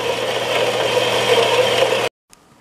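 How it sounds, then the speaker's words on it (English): Saw cutting through 5/8 inch drill rod, a steady, loud metallic rasp that runs for about two seconds before stopping abruptly, leaving near silence and one faint knock. "So I'm cutting off about 4 inches of my 5/8 drill rod."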